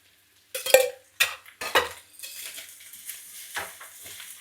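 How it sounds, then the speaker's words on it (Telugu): Chicken pieces are fried in ghee and oil and stirred in a pan, with scrapes and clatters of a spoon against the metal separated by short pauses, over a soft sizzle. "కొంచెం దోరగా వేగితే బాగుంటుంది ఆయిల్లో చికెన్ ముక్కలు అయ్యి"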